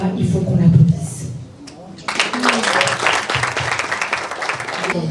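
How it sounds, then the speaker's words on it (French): An audience bursts into sustained applause after a speaker's voice fades, dense rapid clapping from many hands continuing steadily for several seconds, filling the room. "il faut qu'on applaudisse"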